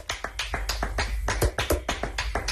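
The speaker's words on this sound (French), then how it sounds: "Les percussionnistes de l'Orchestre de Lyon qui applaudissent à 20h les soignants, mais un peu mieux que nous, écoutez." Percussionists of the Lyon Orchestra clap in rhythmic tribute to healthcare workers at 8 p.m., producing a quick run of crisp, close claps and taps in a lively, uneven pattern with no talking.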